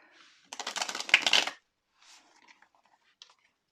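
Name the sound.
shuffling a deck of tarot cards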